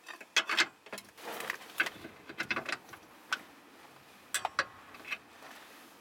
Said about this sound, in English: we can go ahead and torque this bolt, and this torques to 57 foot-pounds